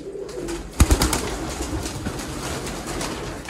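Sialkoti and Ferozpuri pigeons coo in a rooftop flock, with a sharp burst of wing flapping near the start and a steady murmur of birds continuing close by.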